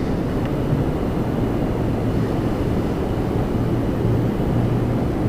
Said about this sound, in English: an Embraer 195 Porter coming in.